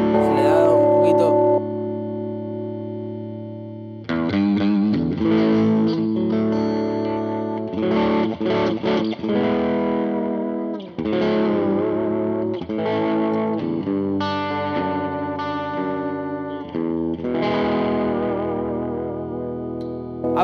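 An overdriven electric guitar through an AC Booster pedal plays chords and lead phrases with a bright, open crunch and some echo, loud and continuous after a brief pause.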